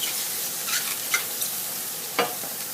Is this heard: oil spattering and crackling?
yes